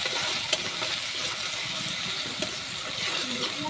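Onions frying in a little oil with cinnamon and cardamom make a steady, moderate sizzle that fills the whole short stretch with a faint hiss.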